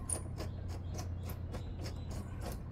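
A cheap car dent repair kit puller is tightened, giving a faint run of about nine evenly spaced mechanical clicks, like a ratchet turning, close by in a quiet room.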